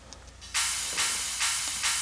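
A crash cymbal sample, layered into an electronic music mix, hits as bright, washy bursts of hiss, repeating roughly every half second after a quiet lead-in.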